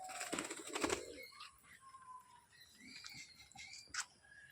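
Pigeons, including loft birds released on a sunny day, giving soft bird calls and cooing at a moderate distance, with brief wing or flutter bursts near the start and again around the four-second mark over quiet outdoor ambience.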